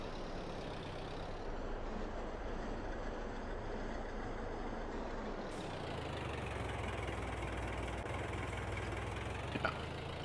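A tractor engine in the Farming Simulator 22 video game idles with a steady, low mechanical drone. The tone shifts and deepens about halfway through, with a brief faint click near the end and no talking.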